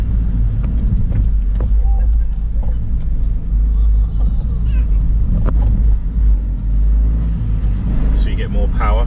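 A Fiat 500 drives along on a road test, its engine a low steady rumble with road noise filling the cabin throughout, while someone talks over it.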